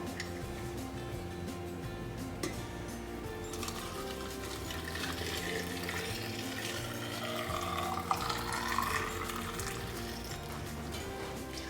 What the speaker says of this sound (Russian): И теперь опять заливаю горячим рассолом.